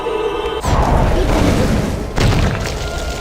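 The Flipendo spell is cast in the Harry Potter PS1 video game, making two loud booming bursts that each give way to a rumbling blast, separated by a short gap.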